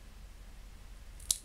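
A single quick snip of scissors cutting paper or card for a handmade flower card, one faint crisp cut near the end after quiet room tone.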